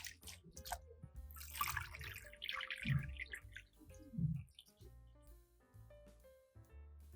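Hands lift and lower mugwort in a basin of water, with soft close splashes, drips and trickles that come and go over a faint tonal background.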